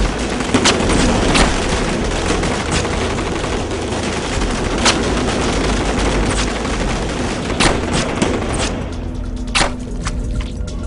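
Rapid bursts of gunfire crackle through an action-film scene, sharp repeated shots and machine-gun volleys firing loud and close over a dense, noisy background, with no talk over them.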